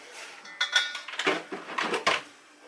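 A metal muffin pan clanks and rattles as it is pulled out and handled, several sharp close knocks in quick succession with a quieter scrape at the end.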